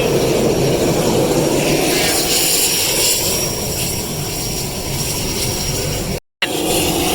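A Pratt & Whitney turboprop engine of about 680 horsepower runs on a Cessna 402 aircraft, a loud, close, steady whining roar with a brief dropout near the end before it resumes.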